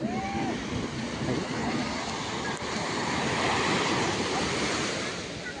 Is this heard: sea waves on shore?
yes